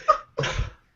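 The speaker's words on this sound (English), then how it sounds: "You just sneezed into the mic, didn't you?" One sharp sneeze bursts straight into a microphone, a short intake followed by a louder, noisy explosive release, close and alone.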